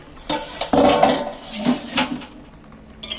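A lid is set back onto a cooking pot of koi fish curry simmering with five kinds of vegetables, giving a couple of close metallic clanks and clinks against the rim, followed by lighter rattles.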